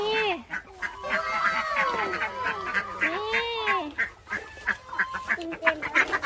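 Ducks at a farm stay in Ratchaburi, Thailand, quacking repeatedly in overlapping nasal calls, fairly close, with people talking nearby.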